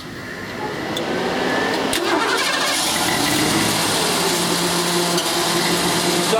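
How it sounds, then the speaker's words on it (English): A Ford engine with EEC-IV ignition cranks on the starter and catches, settling into a loud, steady running roar close to the microphone, with no speech over it. "You hear the starter cranking?"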